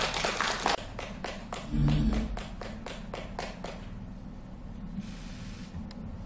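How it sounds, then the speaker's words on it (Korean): An audience at a memorial ceremony for an independence activist claps after a poem recital, a short burst of applause that thins into a few scattered claps and then fades into room quiet. "감동적인 시 낭송을 해주신 강현수 의원님께 다시 한번 큰 박수 부탁드리겠습니다"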